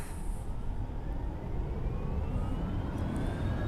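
An F-22 Raptor jet engine at full thrust in X-Plane 11 gives a steady, loud, broadband roar with a faint rising whine running underneath, continuous and unbroken from start to finish.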